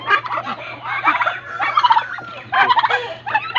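A turkey gobbles repeatedly in bursts of rapid, warbling calls, fairly close, with a steady low hum in the background.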